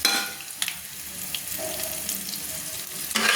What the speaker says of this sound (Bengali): দিয়ে ভালো করে আমি আবার নেড়ে নিচ্ছি